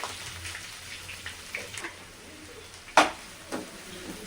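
Curry leaves, green chillies and onion frying in hot oil, a soft continuous sizzle with scattered crackles and one sharper splatter burst, close but fairly quiet, no voices.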